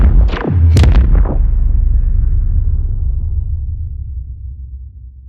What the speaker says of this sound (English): That's a huge filter sweepy, slappy cinematic impact thing